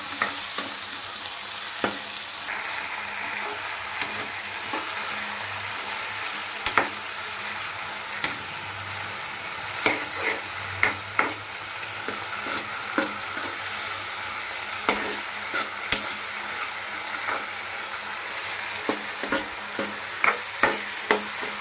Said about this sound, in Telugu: ఇప్పుడు ఉల్లిపాయ, టమాటా వేసి మగ్గిద్దాము.